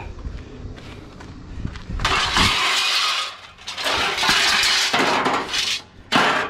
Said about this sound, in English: I grab a piece of sheet aluminum